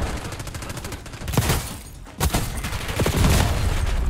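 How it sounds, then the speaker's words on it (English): Rapid bursts of gunfire crackle through a Call of Duty match, with dense repeated shots and heavier impacts swelling toward the end, no talking over them. "HVT is taking fire."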